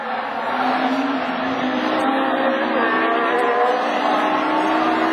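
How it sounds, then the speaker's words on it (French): A Honda rallycross car in Division 4 at Lessay, with an engine fault and running on three cylinders, drones steadily and fairly loud for about five seconds without clear revving. "Il est sur 3 cylindres, elle n'avance plus la Honda."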